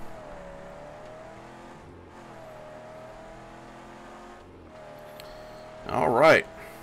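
A car driven in the video game Mad Max, a steady low engine drone running throughout, with a brief louder burst of revving or tire noise near the end.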